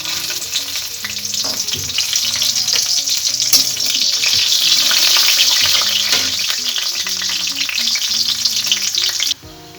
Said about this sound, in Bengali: বড়িগুলো ভাজা হয়ে গেছে